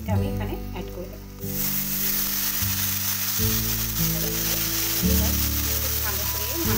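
Boiled black-eyed peas drop into hot spice masala in a pan, setting off a loud, sustained sizzle that continues under steady background music.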